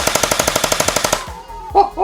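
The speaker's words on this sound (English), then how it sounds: "It's a fully automatic blaster and it shoots out 13 rounds per second." A fully automatic gel blaster fires a rapid burst of about thirteen sharp, evenly spaced cracks within roughly a second, loud and close, followed by a brief pause and a short voiced reaction.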